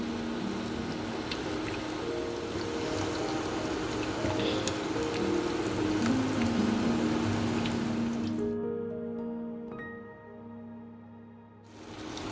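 Palm fruit malpoa batter frying in hot oil in a home kitchen, a steady close bubbling sizzle that runs throughout and thins out toward the end, with no talk.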